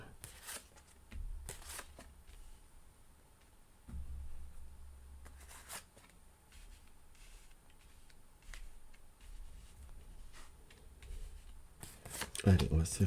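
Tarot cards are shuffled in soft, intermittent riffles and taps for a reading, faint and close, with a few sharper clicks near the end.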